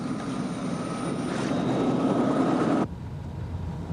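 A helicopter arriving for a pickup, a loud steady aircraft rotor and engine drone that holds constant, then drops sharply in level near the end, with no voices.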